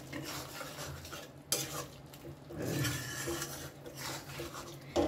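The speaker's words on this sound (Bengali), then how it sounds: "এটা দিয়ে ভালো করে এবারে আমি মিশিয়ে চাপা দিয়ে দেব।" Raw young jackfruit curry with a coarsely ground spice paste is stirred in a pot, with repeated scraping and clattering of a spoon against metal over a low sizzle. A few sharper knocks stand out.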